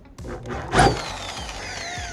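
Power drill biting into stuck bolts on a Ford Thunderbird hood, a short close whir with a brief louder grinding surge before it spins down.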